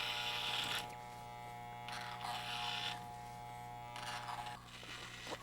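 Electric hair clippers buzz steadily while cutting a flat top haircut, close and fairly quiet, the pitch brightening in short bursts as the blades pass through hair.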